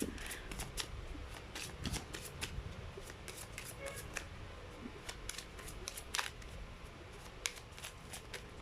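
Archangel Oracle cards are shuffled up close, giving a continuous stream of quick, crisp paper flicks and riffles over a soft background hiss.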